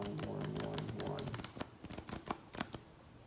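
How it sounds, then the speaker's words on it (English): Playing cards being shuffled by hand, a close run of rapid riffling clicks followed by a few sharper separate snaps, with a voice heard faintly. "I just shuffle the cards like this."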